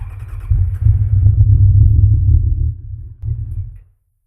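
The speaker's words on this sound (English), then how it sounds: "I got to start the bike here" A Kawasaki Z1000 motorcycle starting up close by, giving a loud low rumbling engine burst that holds steady, drops off briefly, rumbles again and then cuts out, with no voices.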